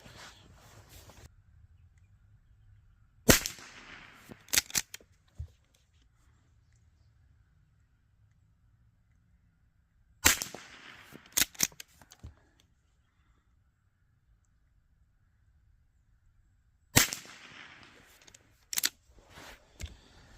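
A Rossi Gallery .22LR pump-action rifle fires subsonic rounds in three separate groups, each a sharp crack followed by quick mechanical clacks of the pump cycling, with quiet stretches between and no talking.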